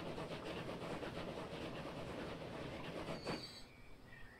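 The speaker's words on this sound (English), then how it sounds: "we got a train going by there" A train rolls past in Transport Fever 2 with a dense, rumbling clatter of wheels on track. Near the end, brief metallic squeals rise as the noise thins out.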